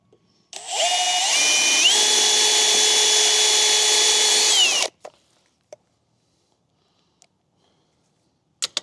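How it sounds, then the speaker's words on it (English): A power drill runs hard for about four seconds into an aluminum fence post, its tone holding steady after a brief rise, driving a screw at an angle through the post's internal web, then stops, followed by a few faint clicks. "This middle one, you kind of got to drill on an angle."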